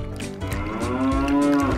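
A cow lets out a long, low moo that rises and swells over nearly two seconds, loud and close, with faint background noise.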